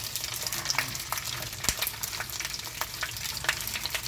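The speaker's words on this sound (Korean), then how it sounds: "머리도 튀겨주시고, 이렇게 해서 튀겨주세요." A dried pollock head frying in cooking oil, giving a dense, continuous sizzle with crackling pops and one sharp clack, steady and close with no voices.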